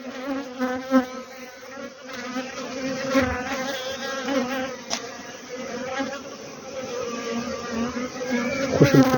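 Honeybees buzz steadily around beehives while colonies are being combined, a dense continuous drone of many wings close by, with no talk.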